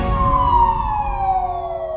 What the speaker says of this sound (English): he crashed into the ambulance.